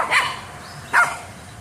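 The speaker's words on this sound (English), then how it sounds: "Jenny doesn't even know what she's barking at." A yappy dog named Jenny gives two sharp, high barks about a second apart, fairly close, with quiet room tone between them.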